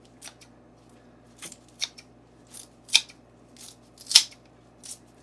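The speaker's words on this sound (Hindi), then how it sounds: "पार्सले को भी काट लेंगे।" Fresh parsley being chopped in a home kitchen, a sparse series of short, crisp snips or cuts spaced irregularly, close but fairly quiet against a low steady background hum.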